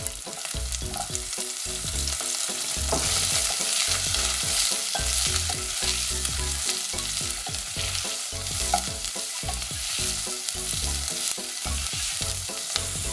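Chopped onion fries in oil with dried red chillies for a pumpkin and gundruk daal. A bright, steady sizzle runs beneath rhythmic, close scraping strokes of a spoon stirring the pan, with no voices.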